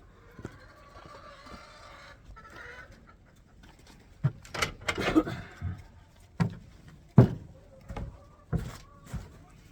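Chickens cluck and murmur in a coop during morning chores, soft at first, then a run of louder, close bursts and knocks, with occasional quiet talk in the background.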